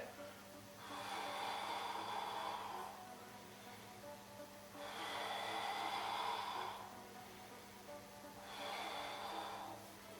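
Three long, slow breaths during a Pilates ab exercise, each a hissing inhale or exhale lasting about two seconds, separated by quiet pauses, close to the microphone over a low steady hum.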